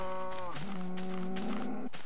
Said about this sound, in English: Come on, cowy cows. You are loud, annoying, and obnoxious